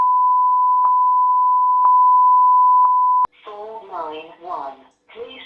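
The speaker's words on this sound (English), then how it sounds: "Please leave a message after the tone." A Vodafone voicemail service sounds a single long, steady, loud beep that holds for about three seconds with faint clicks along it, then cuts off sharply as a voice starts talking.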